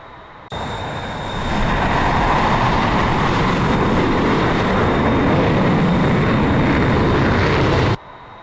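An F-14 jet taxiing in DCS World, a loud steady engine roar with a high whine that swells in and holds evenly before cutting off, with no talk.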